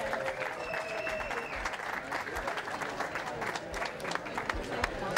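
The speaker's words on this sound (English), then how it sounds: "Big round of applause, folks." A crowd applauds at an outdoor horse show event, sustained clapping from many hands, loud and continuous, with a few brief tonal whistles or calls mixed in near the start.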